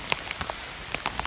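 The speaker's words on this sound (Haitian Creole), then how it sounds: "La pluie ça vient déranger là." Rain falls on a garden with scattered plants, heard as sparse, close raindrops tapping irregularly over a soft hiss.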